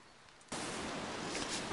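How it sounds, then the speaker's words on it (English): Rain in the game Don't Starve starts abruptly after a quiet moment, becoming a dense, steady, loud hiss of falling water that continues evenly to the end. "And naturally, it's raining."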